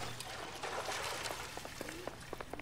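Water left over from firefighting trickling and dripping in a burned-out house in L.A. Noire: a faint, steady wash of running water with scattered small drips and splashes toward the end.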